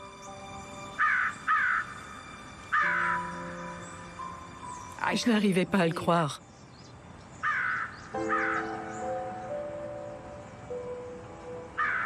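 A crow cawing in short harsh calls, mostly in pairs, spread across the span, with someone speaking over a burst of the calls in the middle.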